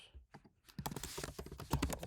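Typing on a computer keyboard while working in Figma: a quick run of close, crisp key clicks, sparse at first, then denser and steadier, with no voice.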